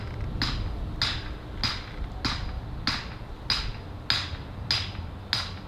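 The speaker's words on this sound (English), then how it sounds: "that's when he starts hammering" Someone nearby is hammering in an even rhythm, about eight sharp strikes spaced roughly two-thirds of a second apart, each ringing over a low rumbling background.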